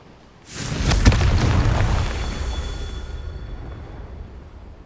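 Confringo blasting spell in the game Hogwarts Legacy: a sudden loud, deep boom that swells into a rumbling burst of crackling debris, then slowly fades into a long low tail.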